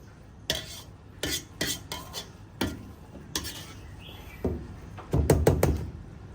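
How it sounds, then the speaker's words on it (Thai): Spoon stirring banana blossom and minced pork curry in a pot, a series of sharp metallic clinks and scrapes against the pot, spaced irregularly, then a quick burst of rapid clatter at the end. "คนเขาหน่อย"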